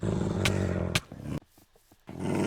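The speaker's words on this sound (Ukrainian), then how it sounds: "Я чую песика." A wolf in the Minecraft video game gives a short, low dog-like growl in two rough bursts, then a quiet pause with small scattered sounds before the rumbling growl returns.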